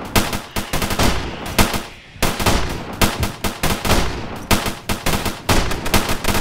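Rapid bursts of automatic gunfire in a video game rattle loudly in quick repeated volleys, with brief pauses between bursts and no talking.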